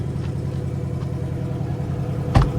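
A 2025 Ford Mustang with the 5.0 Coyote V8 idles steadily with a deep, even exhaust burble, ending in a short sharp blip near the end.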